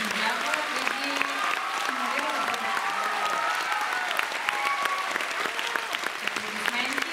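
Applause fills the hall at a concert by a folk-inspiration school, sustained and loud, mixed with crowd noise and a faint tonal undertone of voices or music beneath it.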